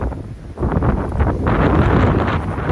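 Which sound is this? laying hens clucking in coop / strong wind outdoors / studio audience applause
strong wind outdoors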